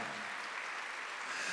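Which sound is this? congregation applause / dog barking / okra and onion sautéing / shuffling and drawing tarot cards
congregation applause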